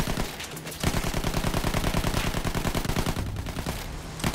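Rapid machine-gun fire in Battlefield 1 on the Heligoland Bight map, a sustained rattling stream of close shots lasting several seconds before thinning out near the end.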